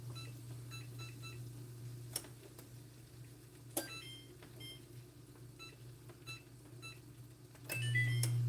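An oven control panel chirps with a few short electronic beeps as the temperature is turned up, heard over a steady low kitchen hum.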